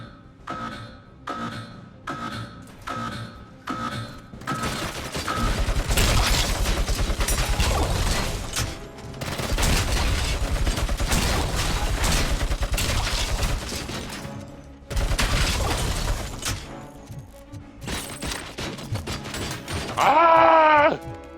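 Gunfire in the Robocop: Rogue City video game, starting with a series of evenly spaced separate shots, then long dense stretches of continuous heavy firing broken by short pauses, loud and close.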